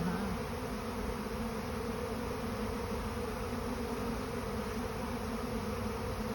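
A swarm of hundreds of honeybees pouring into a hive fills the air with a dense, steady buzzing drone, close and continuous throughout with no voices.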